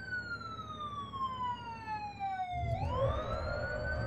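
Cartoon ambulance siren wails with a steady falling tone, then a rising sweep as a low engine-like rumble swells in beneath it, moderately loud.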